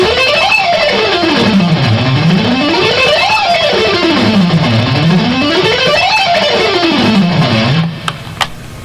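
An electric guitar runs a fast, intense rock sequence of three notes per string, sweeping up and down the neck in repeated waves, loud and continuous, ending in a few clicks.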